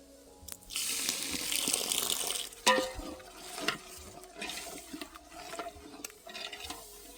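Water splashes into a pan of dry spices cooking for village-style dal palak, a loud pour followed by stirring scrapes and light sizzling close by.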